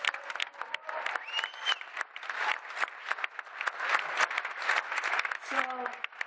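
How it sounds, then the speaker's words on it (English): Applause from an audience at a music festival event, a lively patter of many hands clapping with scattered cheers and brief voices mixed through the crowd noise. "let's give them a great round of applause"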